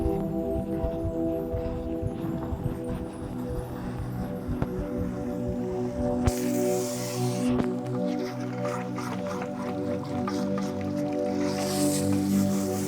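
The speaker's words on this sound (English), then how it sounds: "Shampoo, rinse. Just rinsing out the first shampoo." Water runs steadily while shampoo is rinsed out of locs at a salon wash basin, a continuous close splashing and trickling with a brief louder gush midway.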